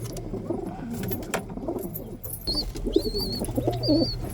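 Pigeons in a loft cooing in low, rolling bursts with wing shuffles and a few higher whistling squeaks, close and busy.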